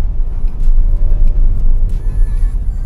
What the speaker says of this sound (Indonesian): Dan langsung mobil akselerasi